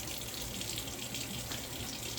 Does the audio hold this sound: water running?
yes